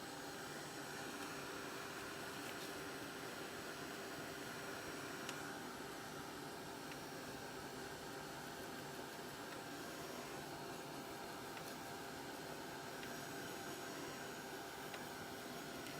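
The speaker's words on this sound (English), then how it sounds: "I'm just going to set this by giving it a quick blast with my heat gun" A heat gun blows over a craft mat to dry and set ink, giving a loud, steady, breathy whoosh that holds unbroken for the whole stretch.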